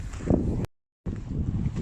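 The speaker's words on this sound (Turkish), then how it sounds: "bayağı bir rüzgar esiyor" Strong wind buffets the microphone with a steady broadband roar on a sandy island shore, cutting out briefly to silence before gusting back in.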